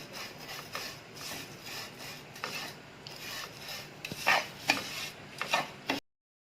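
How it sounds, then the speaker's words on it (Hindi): Dry vermicelli being roasted and stirred in a pan for Eid sheer khorma, giving a steady close-up scraping and rasping with a few sharper scrapes near the end, no talk. "अब हम अपनी सेवइयाँ इसमें डाल के भून लेंगे।"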